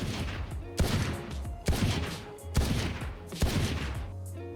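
Rapid gunfire in the video game Valorant, four loud bursts of automatic shots at close range, each ending abruptly before the next begins.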